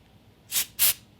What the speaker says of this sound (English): Oh my goodness, this thing sprays like a lot.